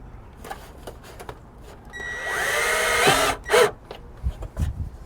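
A power drill drives screws into a gutter guard: a rising whine that runs about a second and a half, then stops, framed by scattered handling knocks and clatter nearby.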